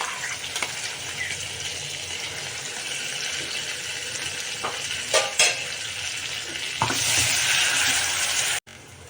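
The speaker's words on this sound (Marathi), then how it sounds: "हे बघा कांद्याची पेस्ट टाकून आपण असं तळून घेतलेलं आहे" Onion paste frying in a pan for stuffed eggplant, a dense, steady sizzle nearby with occasional scraping stirs and a brief surge near the end before it cuts off.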